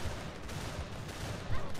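Steady gunfire in Fear Effect Sedna, a dense stream of shots filling the short moment, moderately loud.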